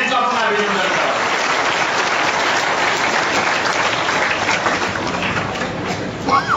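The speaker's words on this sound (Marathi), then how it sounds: "आपल्या सर्वांना विनंती टाळ्या वाजवून" Loud, sustained applause from a large audience at a political rally, steady clapping filling the whole stretch with crowd noise, tapering slightly near the end.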